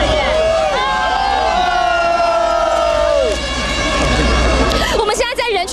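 Han Kuo-yu supporters cheer excitedly at an election vote count, a loud crowd roar with sustained horn-like blasts over the top. Near the end the crowd erupts in a sharper burst of cheering, with voices talking amid the noise.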